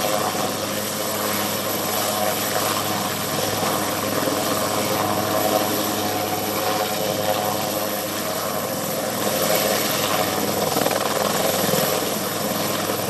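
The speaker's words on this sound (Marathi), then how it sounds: "तर आता हेलिकॉप्टर जे आहे ते या ठिकाणी दगडावर लँड करण्याचा प्रयत्न या ठिकाणी केला जातोय।" A rescue helicopter tries to land on rough rocks in the Girna river at Malegaon, where 12 young men are stranded. Its rotor and engine roar loud and steady the whole time, with no pauses.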